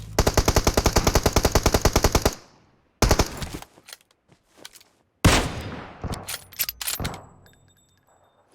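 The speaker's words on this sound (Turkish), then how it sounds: "Biri bir şeyin içinden sıkıyor ya." Rapid automatic gunfire in the PUBG Mobile game, a loud close burst of about twenty evenly spaced shots, followed by scattered single shots and short volleys with gaps of silence, coming from someone firing from inside something.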